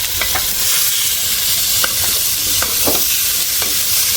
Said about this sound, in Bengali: আমার পেঁয়াজ ভাজা হয়ে গেছে আর চাল দিয়ে দিব